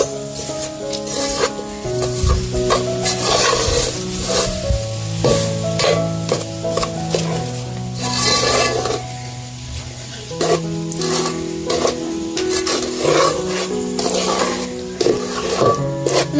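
Besan gram flour roasts in ghee for laddu while a spoon stirs and scrapes the pan, producing repeated scraping strokes over a gentle sizzle, with steady music playing underneath.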